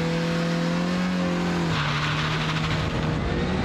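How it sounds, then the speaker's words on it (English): Race car launching hard from a standstill on a track with some wheel spin, its loud engine note rising and then dropping at a gear change, with tire scrub beneath the steady roar. "More wheel spin, but it wasn't too bad."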